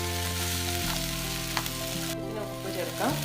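Ingredients for an egg fillet sandwich fry and sizzle in a pan, a continuous crackling hiss with occasional stirring clinks, moderately loud and without speech.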